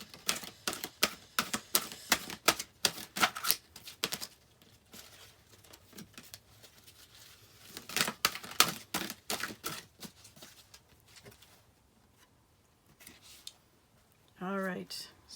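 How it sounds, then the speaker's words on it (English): A deck of cards being shuffled by hand, in repeated bursts of rapid riffling and flicking snaps, close and crisp, with a pause midway and a short spoken voice at the end. "I am going to be shuffling some cards to get our message for today."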